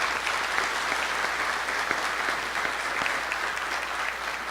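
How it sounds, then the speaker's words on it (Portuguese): Audience applause for civic hackers at a public technology and social oversight event, a steady, dense clapping that fills the room without a break for several seconds. "eu quero uma salva de palmas bem forte para cada hacker cívico que está aqui sentado."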